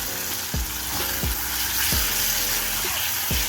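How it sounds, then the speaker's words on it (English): Chicken sautés in a pan over a medium flame for a Korean bao bun filling, a steady close sizzle broken by regular soft scrapes and knocks of stirring every second or so, with no talking. "Now we've been sauteing it for about 5 minutes or so"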